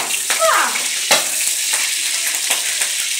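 Cooking oil sizzles in a pan, a bright, dense frying hiss with a few sharper crackles and a faint stir or scrape, close up and with no talk.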